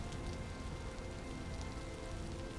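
Steady rain in the video game Vintage Story pattering on a surface, a continuous dense hiss with scattered droplet ticks, no voices.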